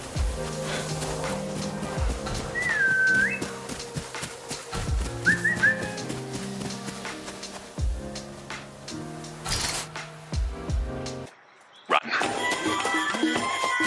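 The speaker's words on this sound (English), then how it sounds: "the player is trying to summon their horse by whistling, but the summon just drives the horse away" A player whistles twice to call a horse in the video game Ghost of Yotei: two short rising whistles rise above steady game music and ambient sound.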